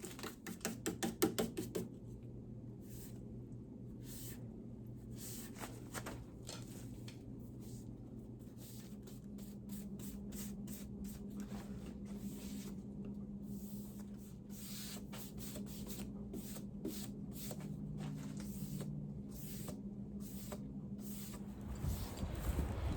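Spray paint is applied to the legs of an upturned side table being refinished: a long series of short, sharp hissing bursts with brief gaps, close by, over a steady low hum.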